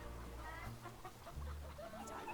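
A hen clucking with chicks, soft repeated clucks and faint peeping over a low background hum, quiet and brief with no talk.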